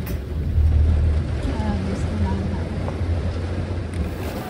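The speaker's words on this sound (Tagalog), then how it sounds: "Pero ang ulan at ang hangin ay hindi rin sila nagpapatinag." Steady rushing wind and rain noise buffeting the outside of a car, a dull continuous roar with low rumble, with brief faint voices underneath.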